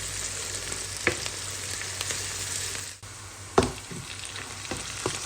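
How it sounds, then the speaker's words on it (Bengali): Onions fry and sizzle in a pan while being cooked down for a prawn dish, a steady close hiss broken by a few sharp stirring scrapes. "এই যে দেখছেন পেঁয়াজটা ভাজা হতে হতে কিন্তু একটু কালচে কালচে হয়ে যাচ্ছে।"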